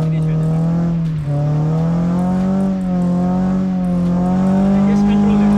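A car drifts in circles around cones, its engine holding a loud, steady drone with slight pitch rises and dips as the throttle is worked, close and continuous.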